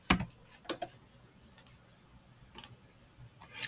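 Keys on a computer keyboard clack in a few short, separate bursts with quiet gaps between, close and fairly soft, without speech.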